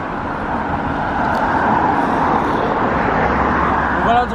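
Steady road traffic and car noise near a mountain pass road, a broad continuous roar that stays loud and even throughout, with no clear individual passes.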